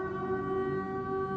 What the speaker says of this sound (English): Uh-oh, there's the siren again.